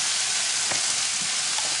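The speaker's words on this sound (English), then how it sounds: "I'm going to go ahead and put my Brussels sprouts in there and toss it around just a little bit more" Brussels sprouts frying in olive oil in a hot pan, a steady close sizzle and hiss throughout with a couple of faint stirring scrapes, no talking.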